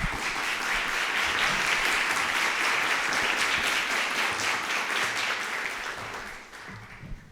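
An audience claps at the close of a talk on communicating sustainability in organizations, a loud, dense applause that holds steady and then thins out near the end.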